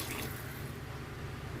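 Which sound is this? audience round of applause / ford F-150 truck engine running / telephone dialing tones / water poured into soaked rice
water poured into soaked rice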